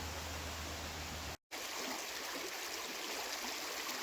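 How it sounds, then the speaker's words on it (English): A small tributary stream in Letchworth State Park, which feeds the Genesee River, flows with a soft, steady hiss, faint and unbroken apart from one brief cut-out. "We're in Letchworth State Park at one of the little tributaries which is eventually going to lead into the Genesee River."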